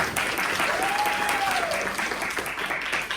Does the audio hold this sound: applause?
yes